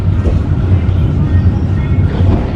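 Low, steady rumble of a KRL commuter train at a station in Jakarta, heading toward Pasar Senen, continuous and fairly loud with no clear talk over it.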